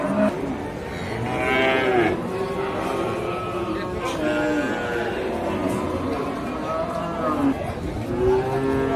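At a crowded livestock market, thin cattle moo repeatedly in long, drawn-out calls that overlap a constant hubbub of people chattering and milling nearby, loud and dense throughout.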